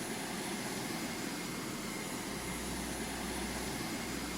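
Aircraft engine drone in the Carrier Command 2 game, a steady, continuous broadband roar with a low rumble that deepens midway, heard alone without talk.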